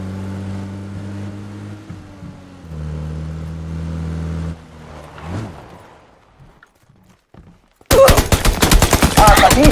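Rapid automatic gunfire in PUBG, a dense burst of loud sharp shots that erupts suddenly near the end after vehicle engine drone and quieter movement sounds.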